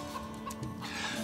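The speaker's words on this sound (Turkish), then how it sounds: "Dayı, bu tavuğu babam gönderdi." A chicken clucks softly in short, faint calls under a low background hum and a murky room ambience.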